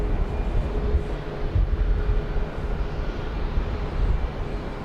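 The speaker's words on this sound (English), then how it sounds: "As we watch another MAX 8 coming in, this one from LaGuardia Airport" A Boeing 737 MAX 8 airliner arriving from LaGuardia lands at Dallas Love Field, a steady broad jet roar heard at a distance, constant and unbroken.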